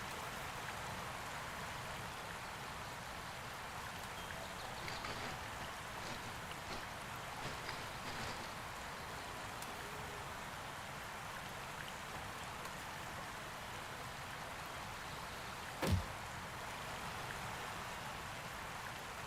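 Steady rushing water from a waterfall in the video game Jurassic World Evolution 3, a continuous even wash that holds level throughout, with one brief louder knock near the end.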